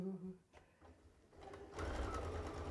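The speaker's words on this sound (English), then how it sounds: "so I'm just gonna sew all the way around" Sewing machine stitching around a fabric circle for a small cross body bag, its motor starting softly then running in a steady fast whir after a brief pause, close by with no talk over it.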